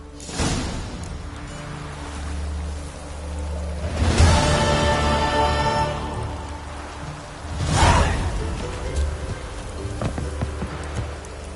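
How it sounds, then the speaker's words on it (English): Steady rain falls in The Witcher 3, a dense hiss of drops on surfaces with a low rumble underneath, swelling twice with gusty whooshes, and no talking. "Rain again. Damn mages."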